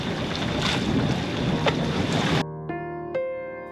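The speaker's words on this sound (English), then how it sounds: "we do have wind, and this is sailing" A sailboat moves along in light wind on a foggy, overcast channel. Steady wind rush and water wash fill the first part, then drop abruptly to a quieter background with faint ringing tones and a couple of soft knocks.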